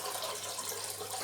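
Water from a running tap during a wet shave, a soft steady faucet rush with light splashing, faint and continuous, with no voices.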